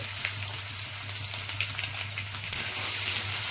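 Sliced onions and green chillies fry in oil in a pan alongside urad dal and curry leaves, giving a dense, steady crackling sizzle close up, with a low hum underneath and no talk.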